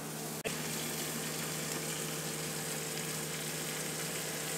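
Butter melting on a hot flat-top food truck grill alongside grilled onions and jalapenos, giving a steady, dense hiss after a brief dropout and click at the start, continuous and close with no talking.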